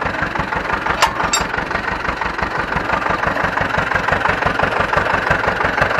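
Ursus C-360 tractor engine idling close by with a steady, rapid low thumping rhythm and a continuous rough drone, plus a couple of brief metallic clicks early on.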